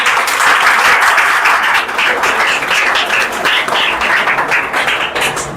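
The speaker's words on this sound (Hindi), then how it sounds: "जोरदार तालियां बजाओ भाई।" An audience claps for a student at a school results celebration, a loud, dense burst of applause sustained evenly throughout with individual hand claps audible close by.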